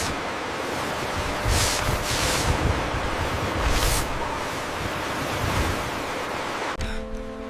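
Stormy sea waves roar continuously with wind, rising in repeated heavy surges. A brief tonal sound enters at the very end.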